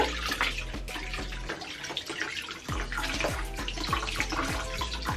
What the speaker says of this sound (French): je vais mouiller un peu mes cheveux